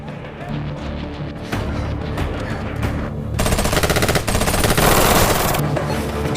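Heavy movie battle gunfire, dense overlapping bursts of automatic weapons that build into a loud, continuous fusillade with no talk over it.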